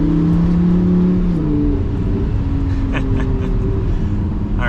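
Lamborghini Gallardo engine running at close range, a loud, steady low rumble with a whining tone that shifts pitch early on, then settles to an even drone, no voices.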